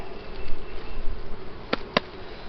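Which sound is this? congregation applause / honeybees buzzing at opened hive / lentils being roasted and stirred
honeybees buzzing at opened hive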